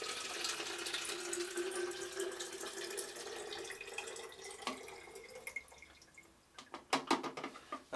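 Photographic fixer poured out of a 120 film developing tank into a sink: a steady faint liquid stream trailing off into a few louder drips and splashes near the end, with no talking.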